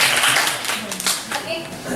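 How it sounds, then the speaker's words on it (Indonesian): A crowd applauds at an open-data and apps discussion event in Surabaya, with brisk hand clapping that swells and fades over a couple of seconds while voices talk underneath. "Biar tepuk tangan."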